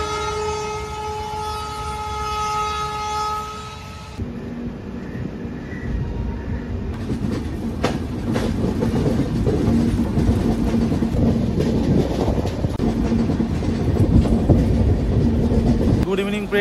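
A passenger train bound for Ujjain near a station halt gives a steady, loud rumble of wheels on rails, opening with a few seconds of sustained horn-like tones before the broad rolling noise takes over. Voices may be faintly mixed in.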